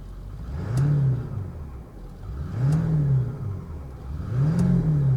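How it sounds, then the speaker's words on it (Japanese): A 1999 Ford F350 XLT Super Duty's engine is revved three times while parked, each blip rising from idle to a loud, smooth roar and falling back in a steady rhythm, close by with no talk. "エンジン空吹かしてみます"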